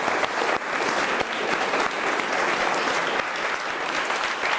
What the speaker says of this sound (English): So please help me give a round of applause.